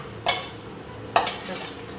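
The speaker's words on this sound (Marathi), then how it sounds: "हे सगळं चिकनमध्येच घालून मॅरिनेट करून घ्यायचं व्यवस्थित" Two quick scraping clinks of a spoon working a spice marinade through chicken for a dry Marathi-style chicken dish, each stir short and close, separated by a pause, with no talking.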